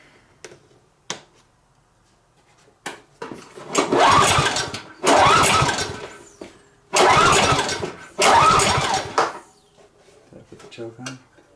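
A free roadside generator's engine is cranked over and over, with several loud pull-start bursts lasting about a second each and clicks and handling noises in between, but it never catches and keeps running.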